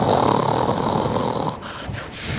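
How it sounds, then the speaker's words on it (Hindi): A cartoon crow snores with a loud, rasping, drawn-out snore up close, heard alone without any talk. "जल्द ही कालू कौवा खर्राटे लेने लगता है।"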